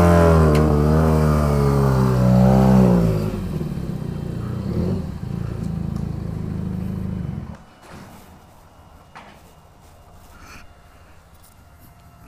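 Benelli TNT 300 motorcycle with an IXIL exhaust, engine revving loudly up and down for several seconds, then cutting off to a quiet background with faint scattered sounds.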